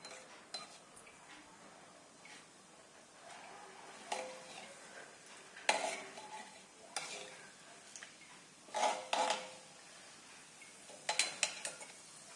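Mustard and cumin seeds crackle in hot oil in a pan, with scattered sharp pops and occasional metallic clinks, sparse at first and bunching into brief louder bursts.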